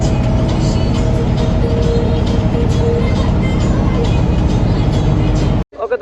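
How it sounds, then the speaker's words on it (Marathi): A hired bus engine runs loud and steady close up with a dense low rumble, cutting off abruptly near the end, before a few brief knocks. "फायनली खूप वेळानंतर आमची गाडी चालू झालेली आहे"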